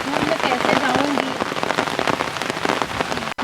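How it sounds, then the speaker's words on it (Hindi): Heavy rain pours steadily onto surfaces nearby, a dense hiss of drops with scattered louder splashes, and voices faintly underneath. "भगवान, इतना ज़्यादा बारिश हो रहा है कि मैं स्कूल में कैसे जाऊंगी।"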